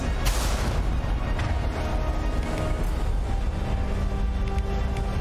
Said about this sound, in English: Those little rocket things.